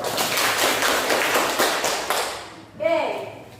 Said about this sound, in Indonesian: Sekali lagi kita berikan tepuk tangan untuk kita semua.